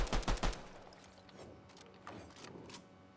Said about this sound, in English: They're just shooting on their own.